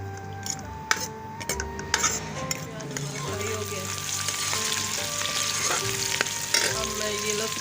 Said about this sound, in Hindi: अब इसमें प्याज शामिल कर रही हूँ।